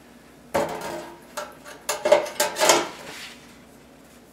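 Crisp fried chips shaken out of a metal fryer basket, a run of bright metallic rattles and clatters bunched over a few seconds, close and loud with no talking.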